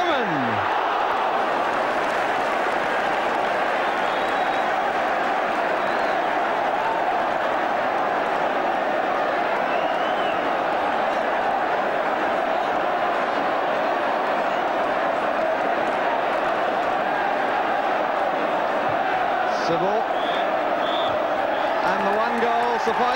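A dense, steady roar from a large football crowd fills a stadium during an Arsenal versus Ipswich match in 1982. It holds constant and loud from start to finish.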